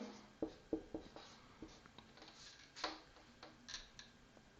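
A pen or marker writing on a board while a trigonometry problem is worked out, faint rhythmic taps and short scratchy strokes in a quiet room.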